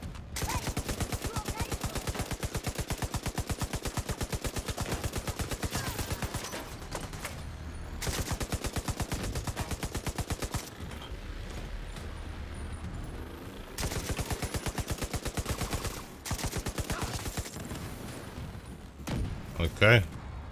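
Rapid automatic gunfire from The Division 2 rattles in long dense bursts with short gaps, loud and close, joined by heavy thuds and a few single shots near the end.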